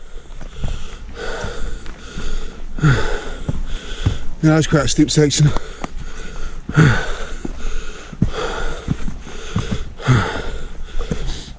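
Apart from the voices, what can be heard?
heavy breathing while hiking up a steep hill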